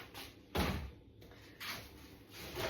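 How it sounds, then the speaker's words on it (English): A fridge door is pushed shut in a kitchen: two soft thuds about a second apart, each followed by a short rustle, with quiet room noise between them. "I'll just shut the fridge door for the moment."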